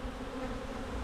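Honeybees buzzing steadily around an opened hive during a January inspection of the brood, a dense continuous drone close by with no pause.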